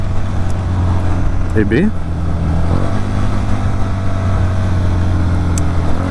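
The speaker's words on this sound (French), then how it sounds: "j'avais enregistré le son du moteur avec un autre smartphone micro dans le sac à dos" Vehicle engine captured by a smartphone microphone inside a backpack, a steady low droning hum held throughout, with a brief spoken voice partway through.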